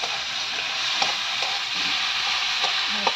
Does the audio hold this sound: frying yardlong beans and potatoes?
yes